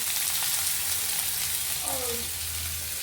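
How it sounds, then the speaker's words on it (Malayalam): Onion, green chili and ginger frying in a pan give a steady, close hiss of sizzling oil that runs throughout, with a brief faint tonal sound partway through. "ഉള്ളിയും പച്ചമുളകും ഇഞ്ചിയും ഇട്ട് കൊടുക്കാം"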